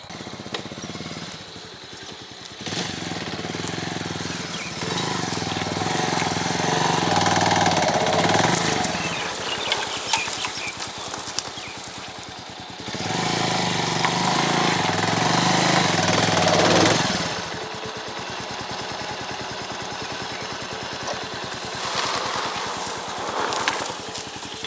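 A Bajaj Avenger motorcycle engine labours up an off-road climb, a loud, rough continuous drone that surges in waves as the throttle opens and eases, with no voices over it.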